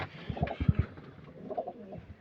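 Pigeons coo in a loft where a bird sits, giving several soft, low throaty coos clustered early and a quieter pair later, close by with faint background noise.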